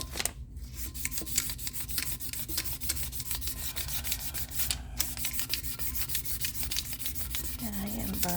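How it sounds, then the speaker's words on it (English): Something is burnished by steady hand rubbing onto a vintage piece being upcycled, a continuous close scratchy friction with a faint hum running under it. "I am burnishing this in there."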